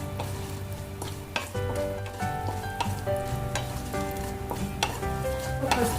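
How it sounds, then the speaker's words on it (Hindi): Poppy seeds and dry fruits roast in a hot pan with a close, continuous sizzle and repeated scraping stirs and clinks, and no one speaks. "इसे हमें थोड़ा सा भूनना है।"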